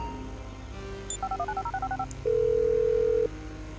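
A quick run of about ten short phone keypad tones plays in the video game GTA 5, followed by one longer, steady tone lasting around a second, all clear and close.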